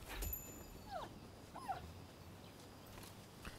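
A dog in the video game Rise of the Ronin gives two short whimpering yelps over quiet game ambience, with no talk.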